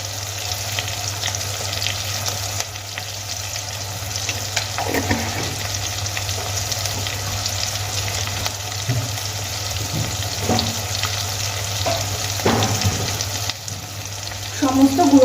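Spices frying with onion, ginger, tomato and green chili in oil for a Bengali fish head curry, a steady close sizzle with occasional stirring scrapes throughout, no talking.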